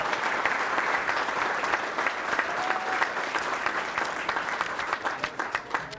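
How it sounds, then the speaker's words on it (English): Sustained applause from the crowd at a bowling hall of fame induction dinner, a dense steady wash of many hands clapping for six seconds, with a faint voice underneath. "Give all those three a round of applause."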